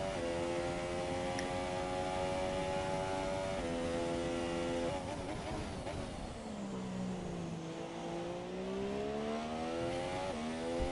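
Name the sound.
Formula 4 race car engine, onboard lap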